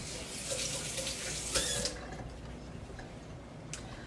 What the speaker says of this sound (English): Now I got to rinse my hand.